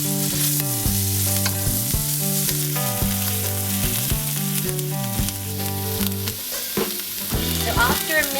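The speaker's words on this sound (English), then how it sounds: "add your ginger to the tablespoon of hot oil and let it cook for about a minute" Ginger sizzles in a tablespoon of hot oil for Mongolian beef, a steady frying hiss under loud, rhythmic background music throughout, with no talking.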